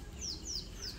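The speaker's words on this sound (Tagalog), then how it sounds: "Ang ingay ng mga ibon." Several short, high chirping bird calls repeat at intervals over a steady low background rumble, fairly faint and distant.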